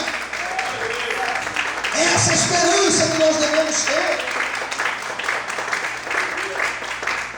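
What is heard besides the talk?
church congregation applauding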